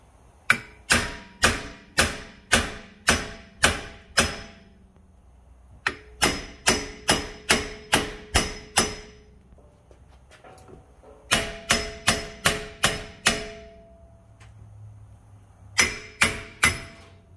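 A hammer strikes a hub puller tool, bolted to a vehicle's rear hub, to force out a noisy hub bearing: loud, ringing metallic blows in quick bursts of six to eight, separated by short pauses.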